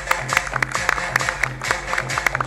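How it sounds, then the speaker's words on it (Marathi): An audience at an award ceremony claps loudly, a dense run of sharp hand claps that swells and holds steady through the stretch. "जरा जोरदार टाळ्या."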